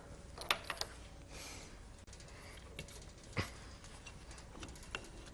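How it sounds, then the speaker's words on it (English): A suction cup camera ball mount's lockdown knob is torqued down by hand, giving a few faint, close ratcheting clicks and creaks spread across a quiet stretch, with no talking. "We're going to go to the side over here to the lockdown knob and torque it down."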